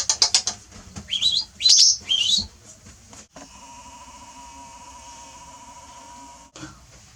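A pet bird gives a few sharp, bright chirps and fluttering wing flaps close by, followed by a steady mechanical hum with a faint tonal whine running underneath for several seconds.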